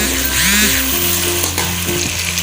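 Ginger garlic paste and crushed green chilli hit hot oil with onions and tomatoes, giving a loud, steady sizzle close up, with a spoon stirring and scraping the pan partway through.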